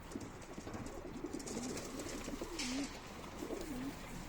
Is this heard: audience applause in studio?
no